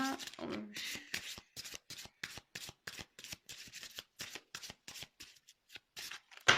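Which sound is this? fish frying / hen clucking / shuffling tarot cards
shuffling tarot cards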